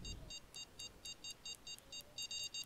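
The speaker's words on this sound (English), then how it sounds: "rod number four is also beeping already" A fishing rod bite alarm in the Fishing Planet video game beeps in a rapid series of short, evenly spaced electronic tones. The beeps speed into a near-continuous run at the end, heard faint but clear on their own.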